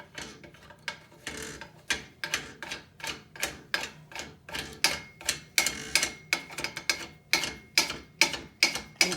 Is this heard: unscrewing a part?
yes